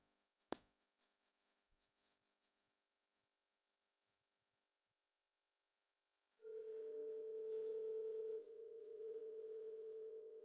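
A telephone line is heard faintly. After a single sharp click there is a long hush, then a steady, continuous electronic tone starts halfway through and holds to the end.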